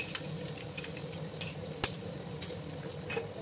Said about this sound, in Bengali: প্রথমে ভালো করে আমি ভেজে নেবো। আদা রসুনের কাঁচা গন্ধটা না দেওয়া অবধি ভেজে নিতে হবে